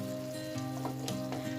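Sizzling and frying from a pan of sweet corn curry as turmeric goes in, a continuous close crackle with a steady tonal hum beneath and a few brief louder bursts of spitting oil.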